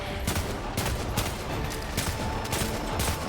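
Rapid gunfire from ranged weapons in the video game Warframe, a dense continuous stream of repeated shots at steady loudness with a few sharper bursts standing out.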